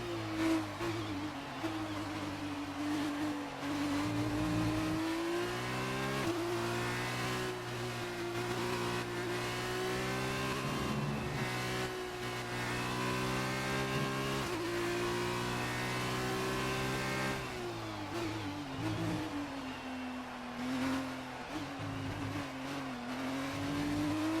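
A Formula 2 race car engine in the F1 2019 video game whines steadily at high revs, pitch rising and dipping with gear changes and corners throughout a long continuous stretch, with no talking.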